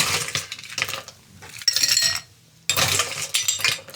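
Ice cubes tumbling and clinking into a glass mixing glass for a dry Manhattan cocktail, in several bright, rattling pours with brief gaps, close and fairly loud, no talk.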